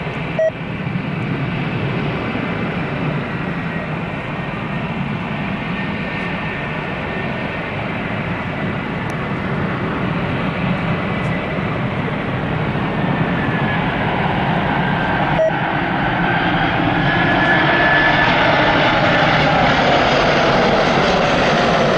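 An Air France Airbus A340-313X landing and taxiing at Toronto Pearson, a loud, steady jet engine roar that builds toward the end, heard alone at a distance with no talk.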